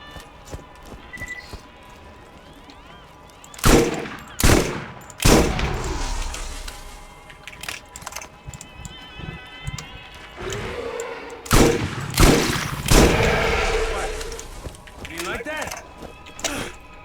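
Assault shotgun fire in Borderlands: heavy, booming blasts come in separate shots and short clusters, loud and close, spread across quiet stretches of background game noise, with a voice speaking between the shots.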